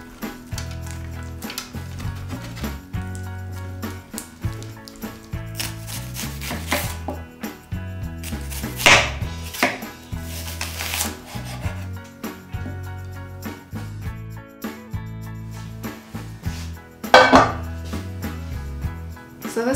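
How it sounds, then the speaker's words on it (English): Low-moisture mozzarella is grated by hand in a kitchen, heard as close, rhythmic scraping strokes in irregular bursts with occasional louder rasps and clatter, with no talking. "So I'm gonna grate some cheese. This is low moisture mozzarella."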